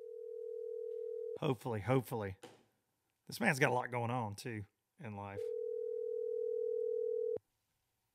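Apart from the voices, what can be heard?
telephone dial tone while calling a guest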